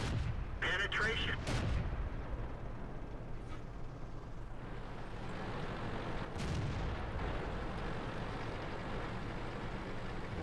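Churchill VII tank cannon fire in World of Tanks, a loud broadband blast near the start, with faint later shots and a low rumbling engine bed throughout.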